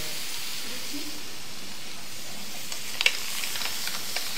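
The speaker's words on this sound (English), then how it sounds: "Saute that a little bit." Food sautés in a pan with a steady broad sizzle and hiss, faint at first and then picking up with a few small clicks and pan movements toward the end.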